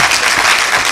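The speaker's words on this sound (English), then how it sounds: "I believe we can give the Minister of Information another round of applause." A room of guests at a law alumni association launch and public lecture breaks into a thick round of applause for the Minister of Information, loud, continuous clapping filling the whole moment.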